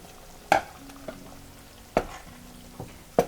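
A pot of jambalaya with rice cooks on the stove with soft bubbling and sizzling, broken by a few sharp clinks of a utensil against the pot at irregular intervals.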